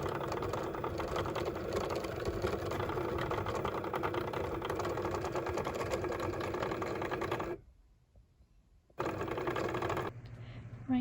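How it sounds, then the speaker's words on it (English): Desktop machine printing and cutting stickers in batches, giving a steady rattling mechanical buzz that runs continuously, drops out briefly, then resumes at a lower level. "Right now, I'm printing and cutting stickers in batches."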